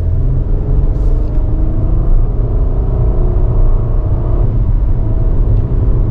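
2024 Nissan Murano SV AWD SUV with a naturally aspirated V6 pulling away from a stop, a steady, loud engine rumble and road noise from inside the cabin, with no talking.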